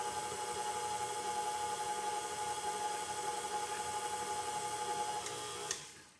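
An electric mixer beats flour into cookie dough with a steady, loud motor whir and a constant hum that runs almost unbroken before cutting off sharply near the end.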